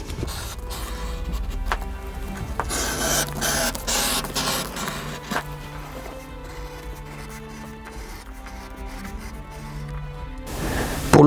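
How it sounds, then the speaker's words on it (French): A leather groover (rainette) cuts a stitch groove along the lower edge of a leather piece, giving close, scratchy scraping strokes with repeated rasping pulls and a sharper noise at the very end. "Je passe la rainette ici sur la partie inférieure pour pouvoir y incruster plus tard ma couture"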